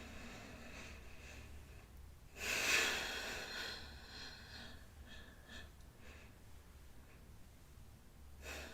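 A single deep inhalation rises sharply and breathily, peaking then fading over a couple of seconds, followed by softer breathing against quiet room tone, with no talking.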